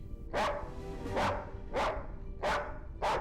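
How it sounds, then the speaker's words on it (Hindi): A dog barks five times at an even, measured pace, each bark sharp and fairly close, with a low hum between them. "ये कुत्ता भौंक क्यों रहा है?"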